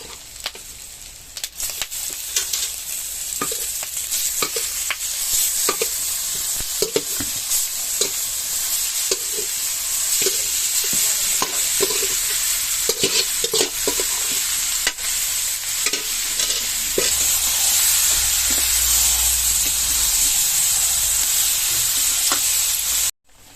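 Marinated chicken pieces sizzle and fry in a clay handi for biryani, with steady crackling and repeated scraping stirs throughout, close and fairly loud, the frying growing brighter and denser toward the end.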